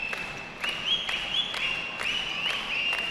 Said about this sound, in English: Dan whistling in the background